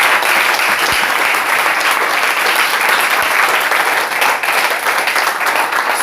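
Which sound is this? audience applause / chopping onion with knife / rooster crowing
audience applause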